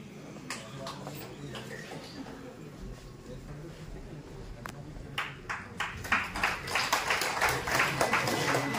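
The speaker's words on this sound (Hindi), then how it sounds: "जोरदार तालियों से स्वागत" Audience applause welcoming a guest at a Bharat Bharati organisation event, starting sparse with scattered claps and building into denser, louder clapping near the end over a murmuring hall with voices.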